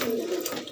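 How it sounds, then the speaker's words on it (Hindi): Flying pigeons kept by a fancy pigeon keeper in Trilokpuri, Delhi, giving a brief, soft, low coo close by. "ये उड़ान वाले कबूतर हैं ये।"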